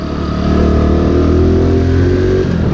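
A new 2022 Honda Pop 110 motorcycle rides along a street, its small engine droning loud and steady from close by with a slight rising pitch as it accelerates.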